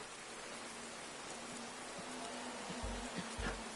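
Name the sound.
rain at the race track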